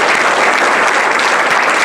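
Loud, close audience applause at a research lecture, a dense uninterrupted burst of many hands clapping throughout.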